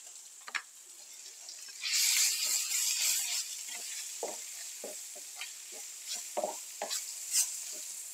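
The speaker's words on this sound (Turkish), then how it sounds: "Kavurduktan sonra şimdi de bu kestiğimiz domateslerimizi ilave ediyoruz" Chopped tomatoes hitting hot oil in a frying pan, a loud close sizzle that swells and then settles, broken by repeated scraping taps of a spoon stirring the pan.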